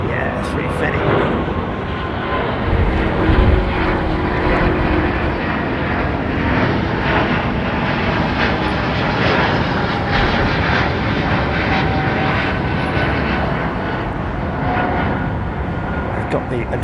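An Airbus A350 jet airliner with XWB engines at London Heathrow Airport gives a loud, continuous roar of engine and rushing air that holds steady throughout, while a person talks over it.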